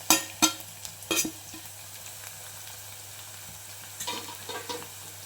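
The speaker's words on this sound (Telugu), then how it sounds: "పచ్చిమిర్చి వేసేసుకోవాలి దాంట్లోనే కరివేపాకు కూడా యాడ్ చేసేస్తున్నాము" Green chilies and curry leaves drop into hot oil in a pan, giving sharp bursts of crackling sizzle that flare up, fade, and flare again a few seconds later, close and fairly loud with no talking.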